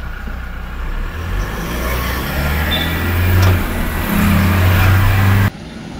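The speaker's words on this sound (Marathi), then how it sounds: "इंजिन जे आहे ना सगळा फाडून आवाज करतं आणि कानाला इतका जबरदस्त वाटतो ना तो आवाज" The 2.8-litre engine of a Toyota Innova Crysta rumbles steadily nearby, swelling slightly in loudness before cutting off abruptly near the end, with no talking over it.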